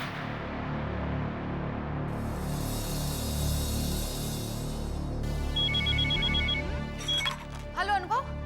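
A phone rings back after a dropped call, with a ringback tone and electronic ring pulses over a continuous background hum, and voices talking near the end.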